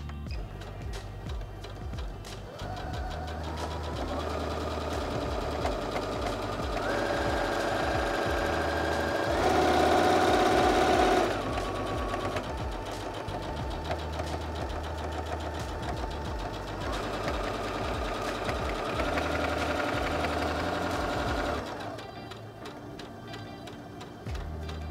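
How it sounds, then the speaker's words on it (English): Singer Heavy Duty 6800C sewing machine running steadily for about twenty seconds, a close, continuous mechanical whir with rapid needle clatter that rises in pitch and speed midway, then slows and stops near the end. "Bring it down low and press the button here to start sewing."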